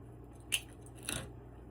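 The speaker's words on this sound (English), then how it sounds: "I'm going to cut this piece off." Scissors snip a piece off a sweet cherries summer wreath, two short, quiet crisp cuts close by against a faint background.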